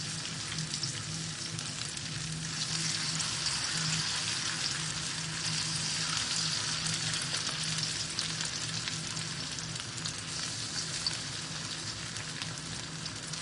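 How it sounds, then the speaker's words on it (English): Pork loins fry in smoking coconut oil with a steady, close sizzle and crackle that holds at an even level throughout, with no speech. "So we're going to go straight with our pork loins and it's going to go inside there."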